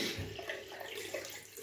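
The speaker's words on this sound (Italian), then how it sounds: "Adesso metterò dell'acqua calda, riempio quasi la ciotolina finché mi preparo" Hot water running from a tap into a small shaving bowl, a soft, steady close-up splash and trickle, faint and alone without talk.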